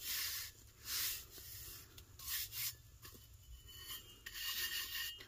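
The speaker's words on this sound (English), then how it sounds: "I'm not scrubbing at it, I'm just kind of lightly rubbing." Hands lightly rubbing glitter over an epoxy-coated tumbler, making a soft, dry rasping swish that comes and goes in a few gentle strokes, close and quiet with no talking.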